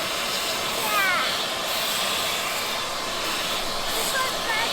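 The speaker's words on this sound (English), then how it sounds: "All right, you gonna vacuum it?" A vacuum cleaner runs steadily at close range, a constant loud whooshing hiss filling the whole stretch, with faint voices occasionally audible beneath it.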